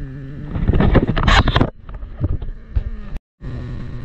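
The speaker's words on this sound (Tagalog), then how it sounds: "Malakas na yung hangin dito sa taas." Strong wind buffets a microphone on a high point above the coast at Caramoan, a loud, rough rumble that swells and drops, breaks off for a moment, then resumes.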